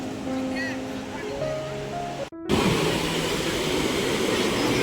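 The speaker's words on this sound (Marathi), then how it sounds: "भरती आताच लवकरच लागले असे वाटते पाणी भरपूर एकदम जवळ आलं आहे" Sea waves wash in at high tide on Murud beach in Dapoli, a steady broadband roar of surf that grows fuller and louder after a brief gap, with voices and tonal sounds over the first half.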